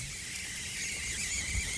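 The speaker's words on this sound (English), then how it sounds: "Whistling sausages. Very green, actually, these Sicilian ones." Sicilian sausages on a barbecue griddle give off a steady high-pitched whistle that runs continuously over a faint sizzling hiss, with no talking.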